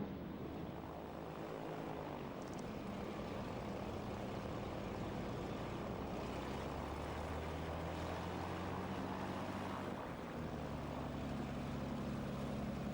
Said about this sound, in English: So there is Prince Faisal taxiing out in the Dove.